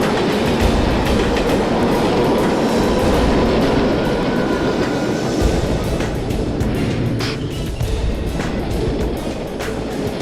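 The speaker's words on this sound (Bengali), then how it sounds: "5 নম্বর প্ল্যাটফর্ম থেকে আর কিছুক্ষণের মধ্যে একটি থ্রু ট্রেন পাস করবে" A through train rushes past a railway platform without stopping, a loud continuous rumble with rhythmic clickety-clack of wheels on rail joints and faint wheel squeal, close and steady for the full length.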